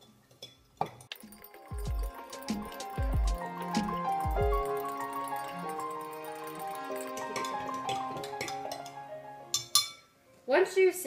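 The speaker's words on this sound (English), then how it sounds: "stir with your spoon until the root beer concentrate" A spoon clinks repeatedly against a glass while stirring root beer concentrate and sugar into water, a quick run of bright metallic taps close by, with a few duller knocks and handling noises at the end.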